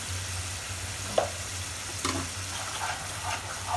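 Potatoes and onions fry in a pan with masala spices, giving a steady, close sizzle, with a few soft scraping knocks from stirring.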